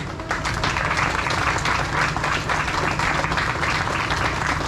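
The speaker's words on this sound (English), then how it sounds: "I think we need to give them a round of applause." A crowd at the Santa Lucia opening 2023 gives a round of applause, loud continuous clapping filling the space for several seconds without voices.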